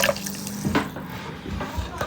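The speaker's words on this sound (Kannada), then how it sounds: "ಇದನ್ನು ಬಿಸಿನೀರನ್ನ ಪ್ಯಾಟ್ಲಿಕ್ಕೆ ಹಾಕ್ತಿದ್ದೀನಿ" Hot water pours into a pot in a kitchen while tamarind rice is being made, giving a close splashing and gurgling with a few bright drips over about two seconds.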